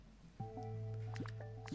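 Water drips in the Pokemon Pokopia video game, a few soft watery plinks landing over a steady synthesized musical tone, close and clear with no talking.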